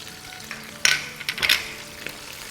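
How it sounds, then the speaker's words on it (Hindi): Onions frying with a splash of water, garlic paste and ginger paste in a pan for Lahori murg cholay, sizzling steadily with two louder bursts of crackling sizzle as they are stirred, close and without talk. "अब बस इसको हम इतना भूनेंगे कि प्याज़ें सॉफ्ट हो जाए।"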